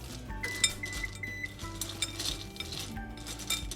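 A small spatula clinks and scrapes against a bowl set over a pot of water on low heat. Several light, quick metallic taps and knocks sound close by with no talking.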